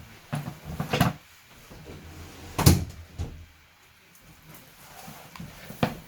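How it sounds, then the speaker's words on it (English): Indoors, a door is pulled shut with a few light knocks and then one sharp, close thud, followed by quieter bumps. "Let me close that door."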